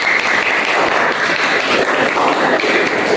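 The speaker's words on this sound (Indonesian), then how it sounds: "Tepuk tangannya mana?" A classroom of students claps together in steady, dense applause, loud and close throughout with no break.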